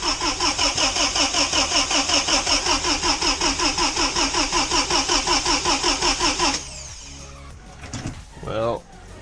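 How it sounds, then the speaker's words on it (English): A Pinzgauer truck engine cranks over loudly in a steady, rhythmic churn for several seconds, then catches and settles into a rougher running sound, with a person talking briefly near the end. "I should be able to start the truck."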